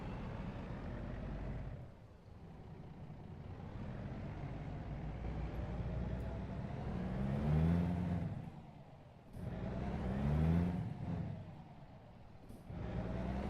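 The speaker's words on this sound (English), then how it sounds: "This is the new Volvo VNL that just come out." A Volvo VNL truck engine in American Truck Simulator drones at a low pitch, rising and falling as it revs up through gears. Two clear swells come near the middle, with brief dips between them and no talking.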